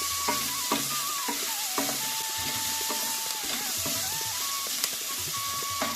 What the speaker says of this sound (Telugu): ఈ ఒక 2 మినిట్స్ ఫ్రై చేసుకోవాలండి.